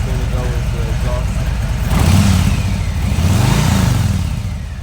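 A 2020 Harley-Davidson Low Rider S with stock exhaust, its engine idling with a loud, close, deep rumble that swells into a couple of revs and settles back, no talking over it.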